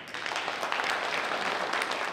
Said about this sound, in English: A round of applause today at City Hall for Mobile's new police chief, William Jackson